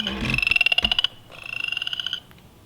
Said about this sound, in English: That's a chorus frog.